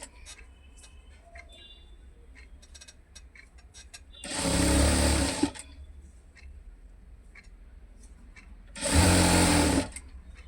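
Sewing machine stitching a folded handbag tag, running in two loud bursts of about a second each with quiet pauses and small clicks of handling between them.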